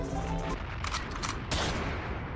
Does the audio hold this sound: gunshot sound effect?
yes